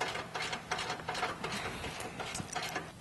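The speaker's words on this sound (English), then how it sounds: "we need to remove this bracket here at the frame and here to remove this out of the way using a" A ratchet with a 16mm socket removes a bracket from a Jeep JL frame, its pawl clicking in quick, close, fairly faint bursts of rapid ratcheting.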